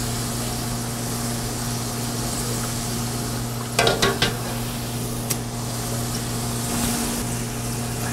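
Waffle-cut gaufrette potato slices fry in hot oil with a steady, even sizzling hiss, a constant low hum underneath and a few brief clattering knocks midway.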